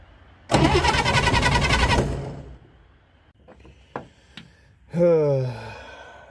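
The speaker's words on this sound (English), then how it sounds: "I'm just gonna crank up the key and see if I can't get any light out of it." A Corvair Rampside engine cranks under the ignition key in a loud, rough burst of about a second and a half that then cuts out, followed by faint clicks and a person talking.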